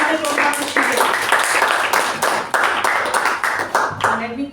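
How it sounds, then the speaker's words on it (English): Audience at a Toastmasters meeting clapping in a continuous round of applause, many hands close and fairly loud for several seconds. "Let's give a huge round of applause"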